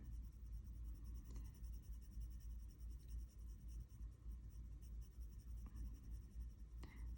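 Coloured pencil shading a sunflower study on paper with small, very light circular strokes, a steady soft scratchy rustle running close and continuous throughout with no talking.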